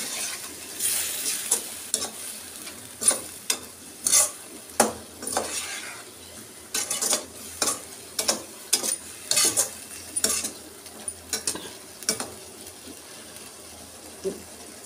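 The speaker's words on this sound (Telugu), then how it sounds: "కాసేపు మూత పెట్టి అలా వేగనిద్దాము." Curd-laced masala frying in a pan under a lid, a constant hiss broken by regular sharp clatters and scrapes of a spoon against the metal, close and fairly loud.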